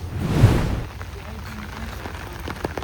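Rain falling outdoors on a Delhi University campus, a steady soft patter with a louder gust of noise at the start, then scattered drops continuing faintly.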